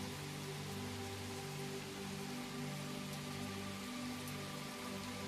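Light rain patters steadily on stones and through the leaves of trees around a forest cottage, a dense, even hiss with no breaks and no voices.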